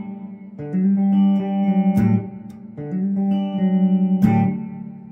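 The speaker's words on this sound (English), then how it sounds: "Here's the plate version." Gibson SG electric guitar run through a CXM 1978 unit on its plate reverb setting, sustained chords with two sharp strummed attacks and a smooth, ringing tail, close and fairly loud with no voices.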